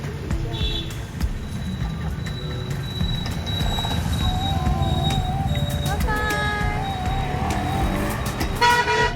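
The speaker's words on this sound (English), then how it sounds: "After that, it was time for our first rickshaw ride." Auto rickshaw ride through busy traffic in Ahmedabad, India, with a steady engine drone and road noise throughout, repeated car horn toots near and far, and voices talking faintly in the background.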